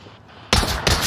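Two sharp, loud gunshots fired one at a time in single-fire mode, close up, with a short pause between the two bursts and no talking.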